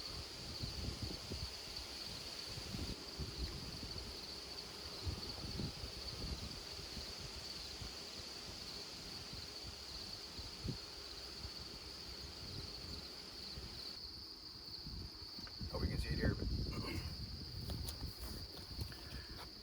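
Honeybees buzz in an open beehive being inspected for the queen and queen cells, with drones present. A steady, even hum runs throughout, with louder handling and rustling noises near the end.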